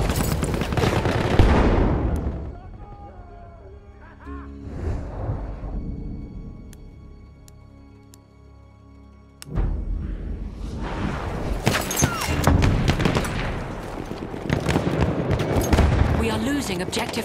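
Battlefield 1 combat with a grenade blast and bursts of gunfire: loud, dense rattling volleys at the start ease into quieter scattered shots, then a heavy crash brings sustained rapid firing back at full strength.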